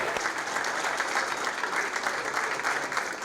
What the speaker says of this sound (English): maybe with just a round of applause for these three guys and their accomplishments